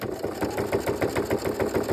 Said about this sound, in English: I'm going to put my presser foot down there, and I'm just going to zigzag back and forth a couple times